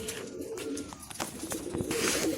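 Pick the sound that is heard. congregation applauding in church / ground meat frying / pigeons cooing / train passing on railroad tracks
pigeons cooing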